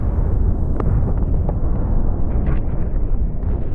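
Loud, dense rumble of an explosion striking a building in a residential area during the Iran conflict, sustained roar with scattered debris cracks throughout, no voices.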